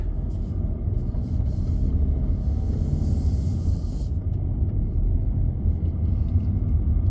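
A 2018 Volkswagen Tiguan SE drives off, a steady low rumble of engine and road noise heard from inside the cabin, continuous and fairly loud with no voices.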